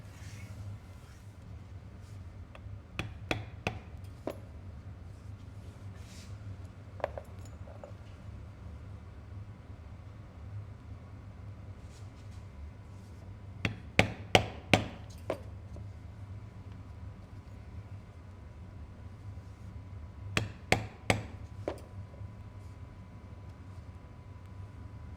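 Leather belt being struck with Weaver stitching chisels under a hammer: sharp tapping blows arrive in small clusters of two to four, spaced apart, over a quiet low hum.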